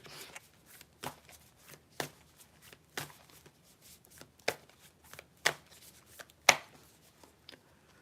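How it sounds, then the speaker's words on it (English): A deck of tarot cards is being shuffled by hand. Sharp riffles and snaps come in an irregular rhythm about once a second, close and fairly quiet, with no talk over them. "Now let us shuffle the cards and pull the past, present, and future lessons for Cancer."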